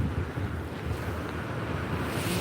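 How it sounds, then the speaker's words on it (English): Choppy sea at Withernsea breaking against the shore on a windy evening, a steady broad rush of surf with wind buffeting the microphone, no voices. "So the sea's quite choppy tonight."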